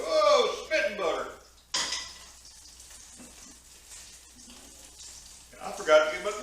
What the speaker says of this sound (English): I must have got some of that milky butter. It's spitting all over the place.